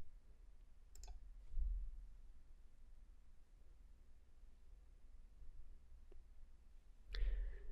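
A computer mouse clicks a few times as a report's Generate button is pressed, sharp close clicks separated by quiet pauses with faint room noise between.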